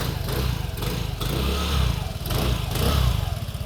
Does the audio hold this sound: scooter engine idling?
yes